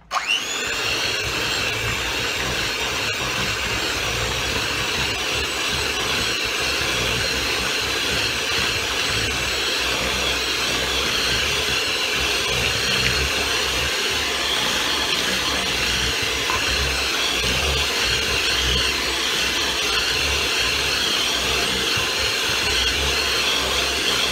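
An electric mixer creams margarine, sugar and vanilla together in a bowl, giving a steady, unbroken motorized whir that runs loud and close for the whole stretch with no talking.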